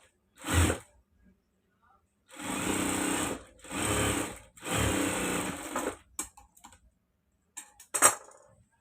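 A sewing machine stitching a seam on a shoulder button piece runs in three or four steady bursts of mechanical whirring, close and clear, followed by a few sharp clicks and handling knocks.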